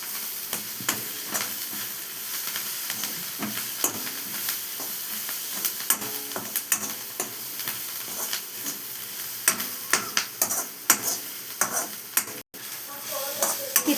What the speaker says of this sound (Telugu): ఇందులోకి మనము కరివేపాకు కూడా వేసుకొని కలుపుకోవాలి.